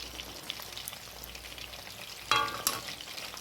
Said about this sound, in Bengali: এবার আমি সুন্দর করে ভেজে নেব।